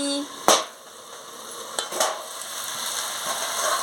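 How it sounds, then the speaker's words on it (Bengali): Raw pumpkin and shrimp sauté in a pan for a Bengali chorchori, with a continuous sizzle broken by sharp spatula knocks and scrapes against the metal, loud and close. "খুলে নিয়ে ভালো করে আনাজটাকে কষিয়ে নিচ্ছি"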